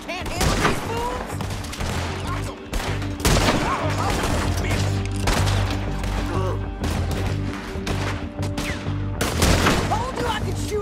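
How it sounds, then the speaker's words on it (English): A shootout in Red Dead Redemption 2, with repeated loud gunshots and rapid volleys of gunfire cracking close by throughout, along with shouting voices in the middle of the fight. "Told you I could shoot a gun"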